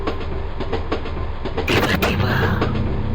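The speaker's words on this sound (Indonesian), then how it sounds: "Kereta masih tetap melaju." Train rolling along rails, a steady loud rumble with rhythmic clickety-clack of wheels over joints, swelling louder midway, heard from inside a carriage, no talk.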